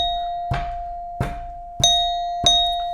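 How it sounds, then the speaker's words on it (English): A chime bar struck four times at a steady pulse, each hit a clear ringing metallic tone that sustains and overlaps the next, heard close and alone in a classroom setting. "I'm tapping at a pulse here and I have to hit the chime bar with it"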